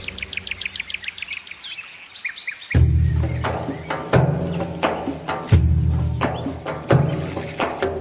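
Birds chirp in quick repeated high tweets, clear at first, then sit half-hidden under heavy thuds and low rumbling layered over them.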